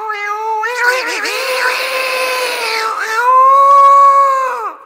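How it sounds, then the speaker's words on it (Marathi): Two cats fighting, drawn-out yowling and caterwauling that rises and wavers, loud and close, one long continuous howl without pauses. "2 मांजरं भांडतायत"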